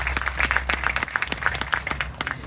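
An audience claps steadily through the stretch at a lecture event, moderately close and continuous, with a low background rumble and no clear speech on top.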